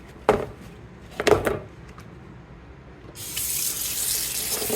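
Two dull knocks come first, then a tap gushes steadily to rinse a vintage U.S. flag during a restoration. The running water is loud and continuous through the final seconds.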